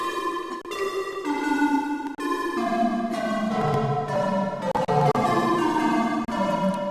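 Serum synthesizer patch run through a chorus effect plays a sustained, shimmering chord line that shifts pitch in steps, loud, continuous and wide, with no voice over it.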